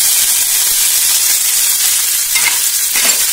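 Mustard seeds sizzling and popping in hot oil for an onion dosa tempering, giving a loud, steady frying hiss close up that carries on throughout.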